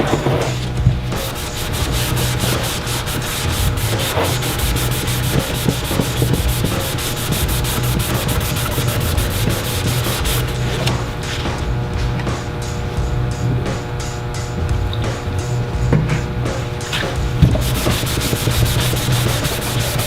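A Graffiti Mops buffing pad scrubs crank ink off a plastic surface with a steady, loud, continuous rubbing and sanding noise that keeps a constant rhythm for the whole stretch, no voices over it.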